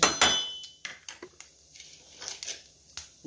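Cumin and mustard seeds being stirred in a cooking pan: close, sharp clinks and scrapes of a spoon against metal, a handful of irregular taps spaced across a few seconds with quiet gaps between.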